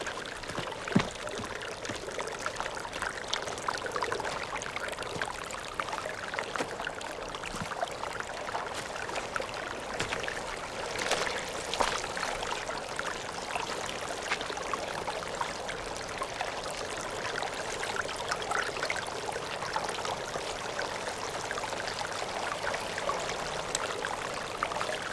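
Irrigation water rushing steadily from a loose fitting, a continuous broadband hiss and splash of flowing water at even loudness throughout, with no talking.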